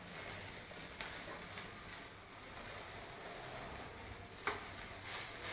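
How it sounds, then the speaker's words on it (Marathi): Flatbread cooking in an oiled pan over lowered gas gives a steady, moderate sizzle throughout, with a couple of faint scrapes or taps near the start and toward the end. "या बाजूने शेकून घ्यायचं गॅस थोडा बारीक करायचं"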